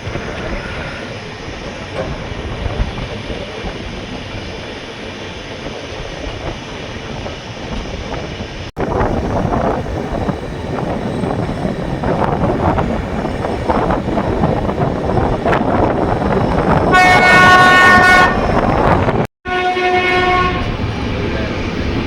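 Train 16565, the Mangaluru Central–Yesvantpur express, rumbles along near Krishnarajapuram, heard from inside a nearly empty unreserved coach with constant rolling noise and wheel clatter, then a loud horn blast near the end.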